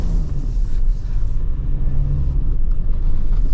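A 2024 Toyota Tacoma TRD Off Road with a 2.4 liter turbo engine climbs a desert sand dune, giving a steady, close, low engine rumble with heavy drone and no voices.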